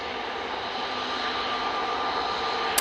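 An airliner lined up and taking off at Manchester Airport gives a steady, moderately loud jet engine rush that holds evenly for a few seconds, with no voices.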